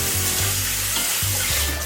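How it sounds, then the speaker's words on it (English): Sliced zucchini dropped into a tomato sauce for turkey meatballs, a loud close hiss and bubbling sizzle that fills the brief moment, with no talking. "I'm going to add some sliced zucchini to my sauce."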